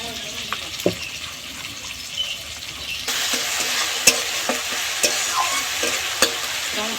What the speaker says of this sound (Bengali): জল দিয়ে আমি ভালোভাবে সর্ষে দিয়ে গুলিয়ে নেব